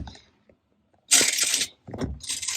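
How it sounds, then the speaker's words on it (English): Screws driven into a mirrored medicine cabinet in a Jayco Jay Flight travel trailer, with two close bursts of a whirring power driver separated by a brief pause, after a quiet lead-in. "we're just going to continue adding some screws to make sure it feels really, really good and stable"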